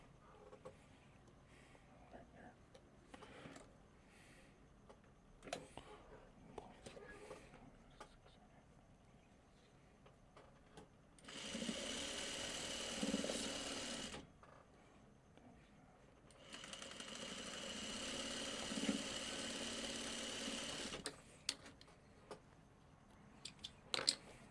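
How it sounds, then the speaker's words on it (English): A sewing machine stitches quilt block pieces together in two steady, sustained runs separated by a pause, with faint handling sounds before and after; no talking. "Let's sew these two together."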